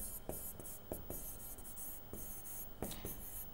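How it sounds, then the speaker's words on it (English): Pen or marker strokes on a surface while writing out a rectangle's area formula in a maths lesson on triangular prisms, with several short scratchy strokes in an uneven rhythm, close and fairly quiet. "So we can write the area of the rectangle as"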